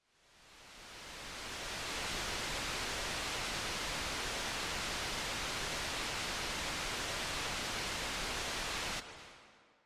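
Synthesized rain built from filtered noise in FL Studio: a dense, steady hiss that swells in over the first two seconds, holds loud and even, then cuts off sharply near the end.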